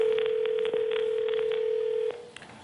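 One long, steady ringback tone sounds over a live phone call on a television talk show, lasting about two seconds before cutting off, with faint room noise behind it.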